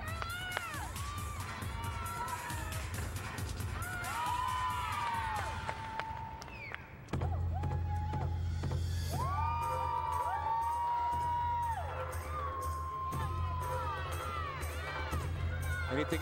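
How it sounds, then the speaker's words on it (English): Collegiate women's gymnastics teammates whoop and cheer loudly in an arena during a Michigan State at Michigan meet, the shouts rising and falling over crowd noise with a thud of landing midway. "You can hear them cheering in the background."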